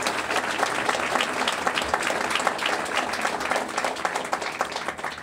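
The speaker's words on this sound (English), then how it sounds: "So please give the Lancaster City staff a big round of applause." An audience at a city press conference with BYD in Lancaster claps in a steady, crisp round of applause that runs for the whole five seconds with no talking over it.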